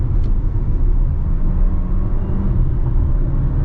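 Dodge Hornet engine in sport mode, a loud, steady low rumble heard from inside the car as it accelerates, with no talking.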